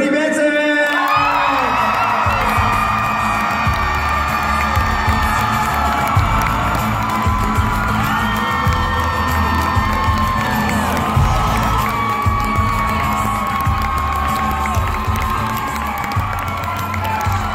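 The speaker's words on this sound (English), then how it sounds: "give a huge Salt Lake Comic Con round of applause for Jody Benson." A large convention crowd at Salt Lake Comic Con cheering, whooping and applauding loudly after a sudden start, sustained roaring with high shouts and screams layered over continuous clapping.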